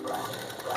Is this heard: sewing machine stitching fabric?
yes